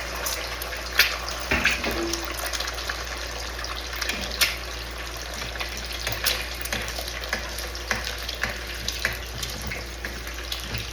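Two eggs fry in hot oil, giving a loud, steady sizzle and crackle with scattered pops and light clatter close by.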